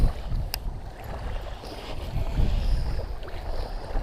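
Strong wind buffets a bass-fishing boat on open water, a low rumbling roar of gusts against the microphone with faint water movement beneath, continuous and close, with no voices.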